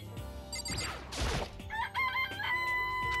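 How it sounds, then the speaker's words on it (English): A rooster in the video game Danganronpa crows loudly in a long, rising cock-a-doodle-doo, followed by short clucks and game sound effects, with a sharp rustling burst in the middle. "It's a chicken. It's not expecting to be fed like humans, is it?"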